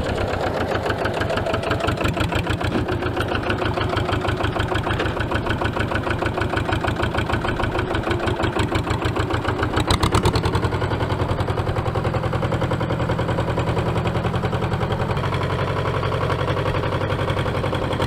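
A tractor engine idling outdoors, loud and close: a steady, fast mechanical chugging that keeps the same even rhythm throughout, with no speech over it.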